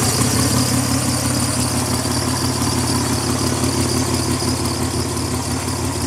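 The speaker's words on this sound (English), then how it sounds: "Got a little squeal coming from this pulley right here." A Nissan Z31 300ZX engine idles steadily with a constant low rumble, a thin high pulley squeal running continuously over it, no talking.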